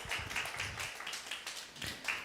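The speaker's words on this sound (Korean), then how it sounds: "박수 부탁드리겠습니다." A church congregation claps for a quiz winner during a service, quick rhythmic claps from a modest group, fairly soft and distant, with no talking.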